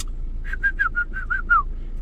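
A person whistles a short run of seven quick, clear notes in an even rhythm, close by, with low background hum underneath.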